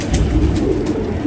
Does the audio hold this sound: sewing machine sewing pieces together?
no